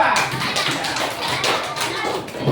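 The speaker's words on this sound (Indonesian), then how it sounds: "Tepuk tangan dulu buat kelompok 2." Schoolchildren in an Indonesian classroom clap their hands for a student group, a steady patter of fairly close claps with children's voices mixed in.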